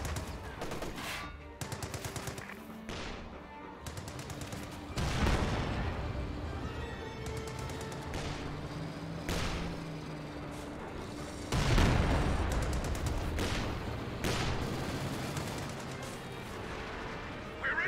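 Tank and infantry battle in the video game Company of Heroes 2, with rapid machine-gun bursts, sharp gunshots and heavy cannon booms and explosions coming in irregular waves, while a voice talks faintly underneath.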